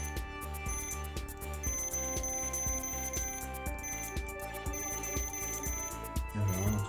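An Altai M-3850D multimeter emits a rapid series of electronic beeps in a regular, repeating pattern, close and clear with no talking.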